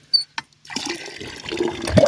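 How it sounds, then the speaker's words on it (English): Water gushes and splashes from a manual pitcher-style hand pump on a well with slightly sandy water, starting after a couple of short creaks or clanks of the pump handle, then a steady rising pour close by. "It takes a few pumps to get the water going again."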